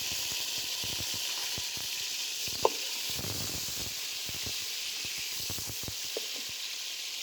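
Chopped tomatoes, about three large ones, sizzle in a pot of beef pulao, a steady bright frying hiss with scattered pops and crackles and a few louder spits throughout.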